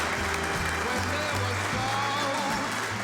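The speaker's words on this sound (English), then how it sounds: "how about a big round of applause for the world's toughest sheriff, Sheriff Joe Arpaio" An audience applauds Sheriff Joe Arpaio, steady mid-level clapping that runs the whole time, with some murmur and voices mixed in behind it.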